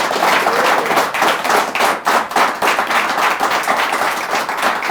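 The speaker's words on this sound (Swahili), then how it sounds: "Wapi makofi yake?" A studio audience applauds a guest at the close of a weekend car-talk show, a lively burst of close, steady hand clapping lasting about five seconds with no voices over it.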